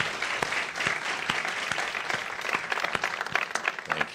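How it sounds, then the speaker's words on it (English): A room full of people applauds speakers at an evening Breast Cancer Awareness Month lighting ceremony, with dense, steady clapping and a few sharper individual claps standing out toward the end. "Can we give another round of applause for these speakers this evening?"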